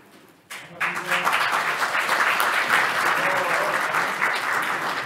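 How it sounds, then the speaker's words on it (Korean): An audience at a policy debate on legislating ESG eco-friendly transport applauds an introduced guest; steady, dense clapping starts abruptly after a brief quiet moment and carries on at full strength to the end. "한 분 한 분 소개해 드릴 때마다 큰 박수로 맞아 주시기 바랍니다"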